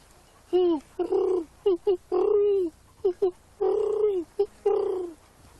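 A voice imitates a great horned owl with a series of short and longer throaty hoots in an uneven rhythm, loud and close, with brief gaps between the calls.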